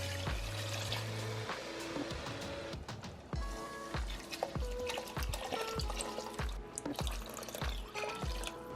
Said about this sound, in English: Just caramelizing. So now it's time for some wine.